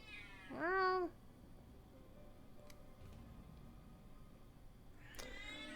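A pet cat meows twice, a clear, near meow first and a second, shorter one a few seconds later, with quiet room noise between.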